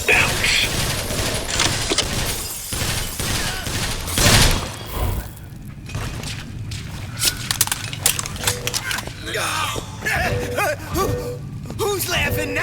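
Machine gun fire rattles in BioShock Infinite: Burial at Sea, with several bursts of rapid shots and metallic clatter scattered among other game effects and a speaking voice.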